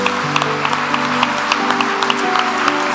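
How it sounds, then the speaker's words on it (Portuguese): A church congregation claps together in applause during a Lord's Supper worship service, a steady broad wash of hand claps with sustained organ or keyboard tones droning underneath. "Dê um forte aplauso ao Senhor Jesus."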